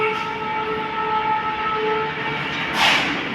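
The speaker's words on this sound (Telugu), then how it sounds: "రైల్వే ట్రాక్ వల్ల మీకు ఆ సౌండ్స్ కూడా వస్తూ ఉంటాయి మ్యాక్సిమం" A train runs along a railway track right beside a house: a steady rumble with sustained whining tones throughout and a brief louder burst near the end, with no talking.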